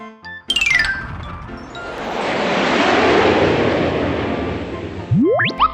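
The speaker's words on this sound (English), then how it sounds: "An airplane goes whoosh, whoosh, whoosh." An airplane flying past, a broad whooshing roar that swells up over several seconds, holds loud, then fades away, with a short rising tone at the very end.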